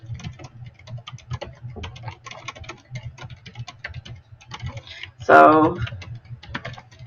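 Typing on a computer keyboard into a Google Docs word processor: a steady patter of close key clicks runs throughout, with a brief louder burst partway through and a short spoken word near the start.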